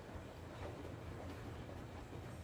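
A train rolls along in the video game Metro Exodus, a faint, steady low rumble with soft rhythmic rail clatter, heard alone without voices.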